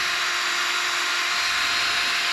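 Steady abrasive hiss of a restoration kit sanding down a sun-faded, clouded window on a neglected farm vehicle, a continuous broadband scrubbing held up close and loud without pause.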